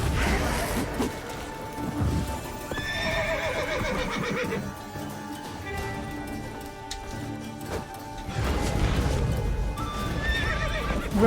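Horse in The Witcher 3 video game, neighing and whinnying loudly several times while its hooves clip-clop, with crashes and game action sounds around it.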